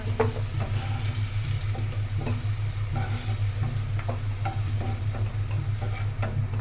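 Potatoes fry in hot oil with a steady, loud sizzle, punctuated by the clicks and scrapes of stirring, with no voices.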